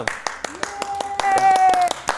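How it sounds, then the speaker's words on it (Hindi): Applause welcoming a returning guest onto a drama review show: a quick run of sharp, bright claps at close range, with a steady musical tone running underneath. "तालियां"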